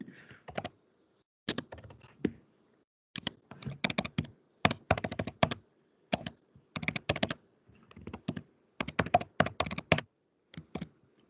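Close, quiet typing on a computer keyboard in short bursts of rapid key clicks separated by brief pauses, as card details are entered, with no speech.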